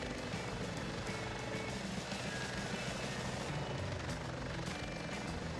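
A video game helicopter drones loudly and continuously, a dense, unbroken rotor and engine wash with no pauses.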